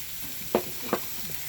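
A steady hiss of pork sizzling on a hot Thai barbecue grill pan, broken by two brief clinks of a utensil.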